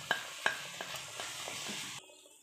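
Chicken pieces being stirred in a cooker with turmeric powder while frying, giving a couple of sharp utensil clinks over a soft continuous sizzle that cuts off abruptly near the end.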